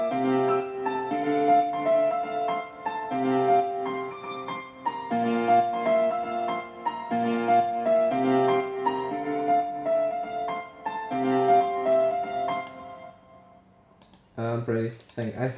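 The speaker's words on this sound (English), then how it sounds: "And then we also have the chords, which sound like this at the start." Synthesizer chords in an electronic music production session, sustained and stepping through a repeating progression, loud and clean with no talk, ending in a short choppy burst.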